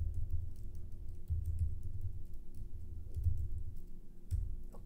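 Fingers typing on a computer keyboard, a quick uneven run of soft close clicks ending in a press of the Enter key, with no talking.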